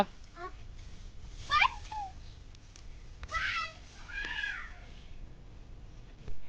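A cat meows several times in short calls on a cold rural farm, mixed with quiet nearby talk.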